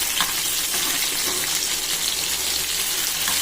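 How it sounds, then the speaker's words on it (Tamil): Vaala fish fries in a pan with a loud, steady sizzle and crackle, a dense continuous spatter heard up close with no voices. "வறுவல் நல்லா வேகட்டும்"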